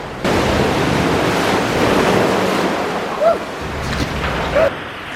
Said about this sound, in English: the tide's coming in through there